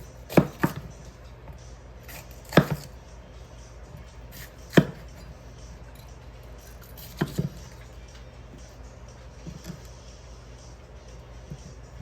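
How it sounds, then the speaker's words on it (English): A knife cuts bad spots out of peppers, heard as sparse, sharp knocks on a board, a handful of separate chops spread out over a quiet background. "We're just going to cut out the bad spots, the ones that are no good"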